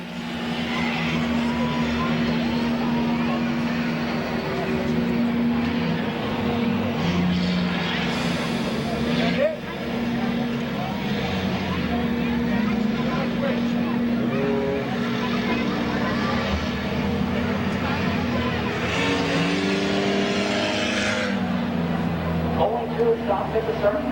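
Compact race cars roar around Midvale Speedway in a heat race on Memorial Day weekend, a sustained engine drone rising and falling as they pass, with a loud announcer talking over it throughout.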